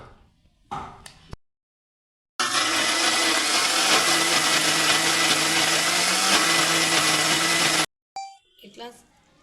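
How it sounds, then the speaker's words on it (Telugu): A kitchen mixer grinder finely blends a salted paste for a beans, egg and potato curry, running as a loud, steady whirring roar for about five seconds between brief handling sounds. "ఇట్లా సన్నగా మిక్సీ పట్టుకోవాలి"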